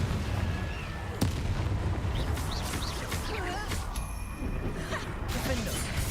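Confringo fire blast spell exploding in the Hogwarts Legacy video game, a sharp burst near the start followed by crackling, whooshing combat effects over a dense game soundscape.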